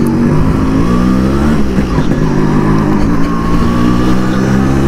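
A Yamaha RX 100 two-stroke motorcycle engine revs and pulls hard while being ridden, a loud, close, buzzing drone that rises in pitch as it accelerates, mixed with wind rush.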